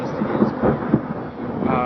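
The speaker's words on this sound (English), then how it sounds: "That lightning was like right behind Montrez's house." Thunder from a close lightning strike rumbles in heavy, rolling waves, loud and near, swelling and easing through the short span, with faint voices behind it.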